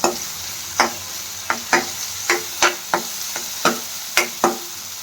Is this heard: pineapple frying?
yes